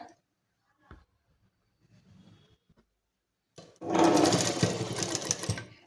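Sewing machine stitching the shoulder joint of a collar kurti, starting abruptly after quiet handling noises and running in a loud, fast, continuous whir close by.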